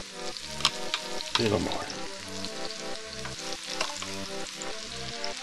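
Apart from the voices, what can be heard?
ocean perch and garlic frying in a pan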